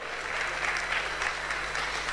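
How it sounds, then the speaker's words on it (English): A lecture audience at the Busia Institute event in the UK keeps up sustained applause, a soft, even wash of many hands clapping at a distance with a faint steady hum underneath. "Let's keep clapping"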